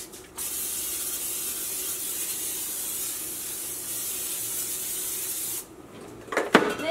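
A continuous hissing of cooking spray lasts several seconds close by while making butter mochi, then stops, followed by a few light clicks and taps.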